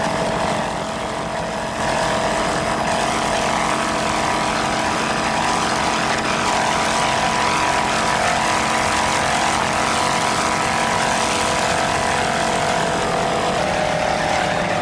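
A racing powerboat with a single 340-horsepower Ford engine and OMC outdrive roars at a 1993 grand prix off Hernando Beach, Florida, a loud, sustained engine drone throughout that swells slightly after the start.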